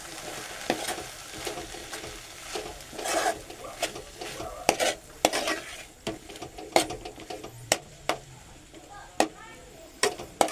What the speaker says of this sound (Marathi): आपण ढवळून घेऊ.